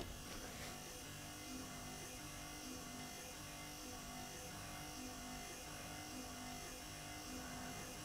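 A Citroen 2CV windscreen wiper motor with refurbished spindles runs steadily, giving a continuous electric buzz with a faint rhythmic whir as the wipers sweep back and forth, close and constant throughout.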